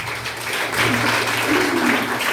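Audience applause at a direct-selling business success event, a dense steady patter of clapping that fills the whole moment without talk.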